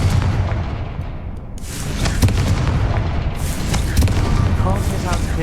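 A Confringo spell blast in Hogwarts Legacy lands as a booming explosion around two seconds in, followed by a rumbling, crackling tail, with several sharp impacts mixed into continuous game sound.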